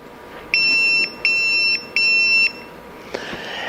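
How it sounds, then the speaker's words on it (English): A dog training collar gives three evenly spaced electronic beeps, each about half a second long, loud and close, with no other sound around them. "The first is a beep signal"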